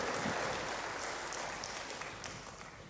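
A church congregation claps together during a sermon, a broad sustained roar of hands that is loud at first and gradually tapers off.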